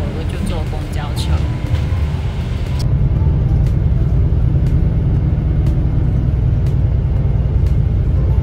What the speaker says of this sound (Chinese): 但是因为我拿不动太多东西，我就不能走路回去，我就坐公交车